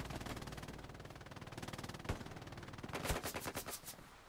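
A machine gun fires in Hell Let Loose, a World War II shooter, in long steady rapid bursts that run almost without a break, with a faster, sharper stretch near the end, loud and close with no talking.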